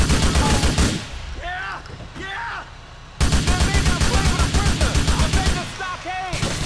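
Rapid gunfire crackles loud and close as guards are shot in GTA 4, in dense automatic bursts that pause briefly in the middle and then resume, while someone speaks between the volleys.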